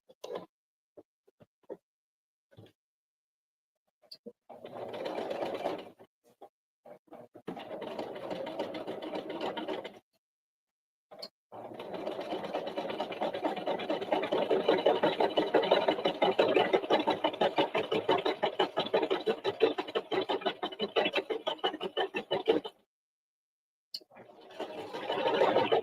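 A domestic sewing machine stitches knit fabric in rapid mechanical bursts, starting and stopping several times before a long steady run, close and clear, with short quiet gaps between seams.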